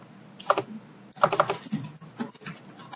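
Typing a password on a computer keyboard: short bursts of soft, close key clicks, a few quick taps at a time with small pauses between.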